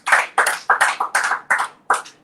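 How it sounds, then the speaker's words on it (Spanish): A church congregation claps in a few sharp, rhythmic bursts, roughly seven distinct clusters of hand claps spaced evenly, fairly close and loud, with no talking over them. "Un aplauso al Señor"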